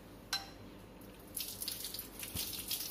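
Running tap water at a kitchen sink, a soft steady splashing stream that starts partway through after a single light knock, fairly quiet with no voices.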